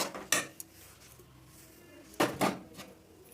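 A spoon scraping and clinking against a pan while amla mixture is stirred with cane jaggery, a few sharp knocks spread across the moment with quiet between them.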